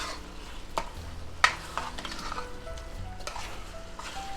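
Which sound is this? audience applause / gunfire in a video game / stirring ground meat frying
stirring ground meat frying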